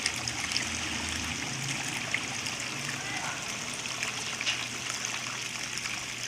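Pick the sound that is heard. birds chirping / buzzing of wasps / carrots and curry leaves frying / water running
water running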